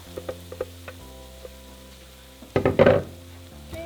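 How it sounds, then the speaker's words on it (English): Cheesy shredded beef quesa tacos fry in a pan, giving a soft sizzle with light ticks that swells into a louder crackling burst near the end, close by with no talking. "we're going to fry them for 3 minutes"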